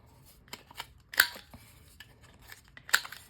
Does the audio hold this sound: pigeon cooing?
no